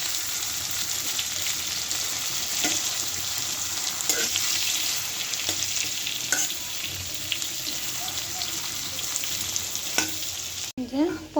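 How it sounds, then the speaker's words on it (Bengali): Pointed gourd (potol) coated in turmeric and salt fries in a pan with a steady, close sizzle and occasional sharp crackles and stirring, with no talking. "হালকা ভেজে নেব পটলটা।"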